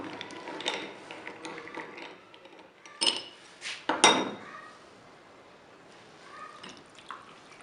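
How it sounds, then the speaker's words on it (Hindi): Ice cubes drop into a glass for a chilled thandai drink, making a few sharp clinks and rattles near the mic, the loudest around the middle, amid quieter kitchen handling. "आइस क्यूब डालेंगे,"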